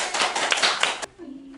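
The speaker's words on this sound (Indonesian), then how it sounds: "Tepuk tangan dulu dong." Brief burst of hand clapping from a small group in an indoor podcast setting, about a second of quick claps that cut off abruptly, followed by a faint tone and quiet room sound.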